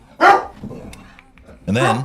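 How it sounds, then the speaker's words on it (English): A dog barking frantically in the background, sharp loud barks at the start and end with a quieter gap between, while someone talks over it. "Pardon the noise of a dog go mad in the background."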